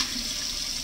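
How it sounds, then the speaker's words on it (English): Water runs steadily from a kitchen tap while a knife is washed before filleting a wolf-herring fish, a constant close hiss-like rush with no talking. "wash the"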